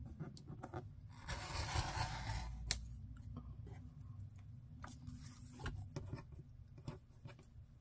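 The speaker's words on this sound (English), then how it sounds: "I'm going to cut this." Scissors snip through paper in a series of quick, close cuts with crisp scraping blade strokes and small pauses between them, nobody speaking.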